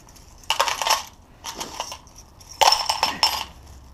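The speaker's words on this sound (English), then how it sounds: "The basket comes in a fastener kit with a little plastic bag with a whole bunch of fasteners." Small metal fasteners from a scooter assembly kit clink and rattle inside a little plastic bag, in several close, bright bursts of jingling separated by short pauses.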